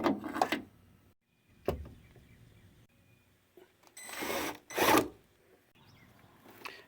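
A handheld Dremel rotary tool enlarges a bolt hole in a reproduction door check part on a Jeep XJ, heard as several short bursts of grinding and rasping with quiet pauses between them.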